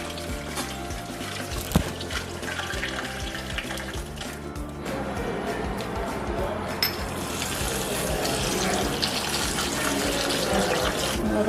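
Soya chunks (meal maker) being rinsed under a running kitchen tap, giving a steady close splash of flowing water that grows slightly fuller partway through, with a few brief clinks and no talking.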